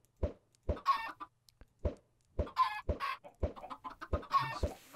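Chickens in the Minecraft video game clucking in a string of short, sharp, separate bursts, clear and close against a quiet background.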